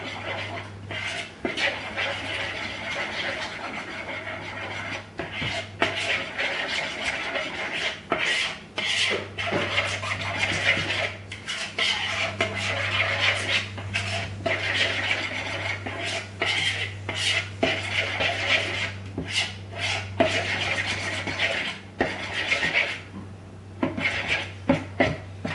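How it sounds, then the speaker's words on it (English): A spoon or spatula scrapes and rasps repeatedly against a bowl while melted chocolate is stirred until smooth, a continuous rubbing sound with frequent small clinks over a low steady hum. "And then just stir it up until it's smooth."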